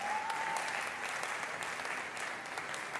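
An audience at a Maajabu Talent semi-final applauds to welcome the doctors to the stage, a fairly faint, even wash of clapping lasting a few seconds.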